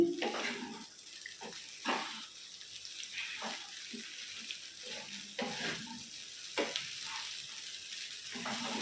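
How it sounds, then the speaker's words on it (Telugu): Vegetable poha stirred and frying in a pan, a soft steady sizzle broken by repeated scraping stir strokes every second or so, close and moderate in level with no talk. "కొంచెం ఫ్రై చేస్తాము, ఫ్రై చేస్తే కొంచెం వేడి."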